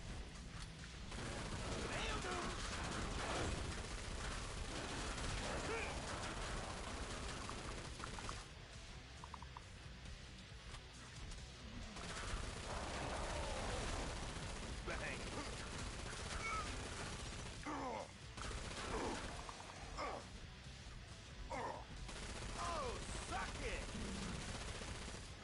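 Rapid machine-gun bursts from a 'bullet hose' weapon in the video game Killing Floor 2 crackle in repeated volleys with brief gaps, while a voice talks over parts of the shooting.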